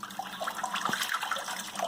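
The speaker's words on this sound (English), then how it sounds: "pour in probably most of this bucket" Thick liquid clay pours and splashes steadily from a bucket into a mould, a continuous gurgling wash that stays fairly soft with no voices.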